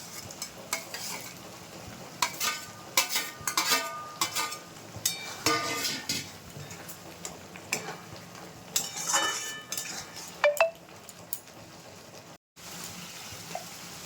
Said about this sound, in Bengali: ঝোলটা ফুটে গেছে এবার মাছটা দিয়ে দিচ্ছি